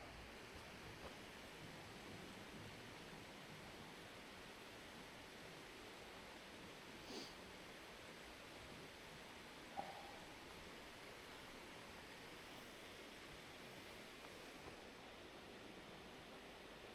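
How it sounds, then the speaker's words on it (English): Waterfall on a walking trail near Bamford Edge, a steady faint distant rush of falling water with brief small rustles. "a waterfall."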